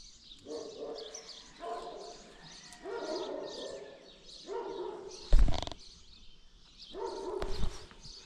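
Several kennel dogs bark in short, repeated bursts at moderate distance, with pauses between volleys, one sharp thump partway through and faint bird chirps in the background.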